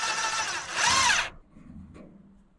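A power drill driving screws to mount towel hooks onto wood for an outdoor shower: a steady whirring run that rises in pitch and loudness, then stops abruptly, followed by a faint brief knock.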